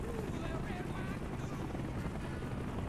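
A steady, dense helicopter rotor roar fills the whole stretch, loud and constant with a whooshing, wind-like texture, from the video game Call of Duty: Black Ops.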